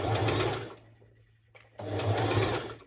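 A sewing machine runs a straight stitch over elastic in two short bursts, pausing for about a second between them. The motor is fairly faint and close.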